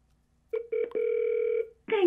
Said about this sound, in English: So I'm just going to redial this number here.